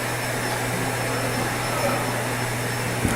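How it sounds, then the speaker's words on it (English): Vacuum cleaner droning steadily in the background, a constant whirring hum that fills the whole stretch at moderate level. "there's gonna be some vacuum noise in the background"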